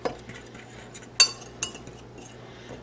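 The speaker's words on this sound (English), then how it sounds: "Stir all that together." Ingredients for turkey and dumplings being stirred together in a bowl, a few sharp clinks and knocks of a utensil against the bowl over quiet room hum, close and intermittent.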